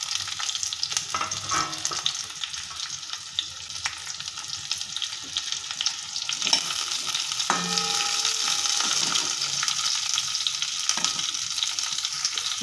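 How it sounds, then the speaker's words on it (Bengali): Onion, garlic, ginger and green chili fry in a pan with hot oil, giving a steady close sizzle with occasional scraping stir strokes throughout. "এটা একটু ভাজা ভাজা হবে"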